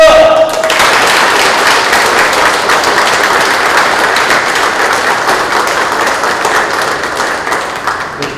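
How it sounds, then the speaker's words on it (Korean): A roomful of attendees at a Daegu business club meeting with the mayor gives a loud, dense round of applause that starts abruptly and carries on steadily before slowly fading. "박수 한번 쳐주십시오."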